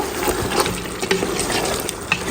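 Beef being fried and stirred in a pot gives a steady sizzling hiss broken by a few scraping stirs, up close and with no voices.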